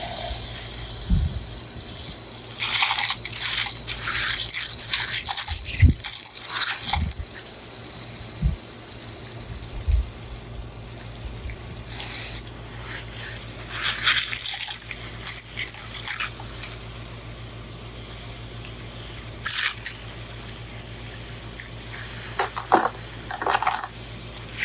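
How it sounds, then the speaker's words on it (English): Water runs and splashes as faux sea glass gets rinsed outdoors, with a gushing flow that keeps starting and stopping, several sharp clinks and knocks, and a dog barking now and then. "I'm going to go ahead and finish rinsing this."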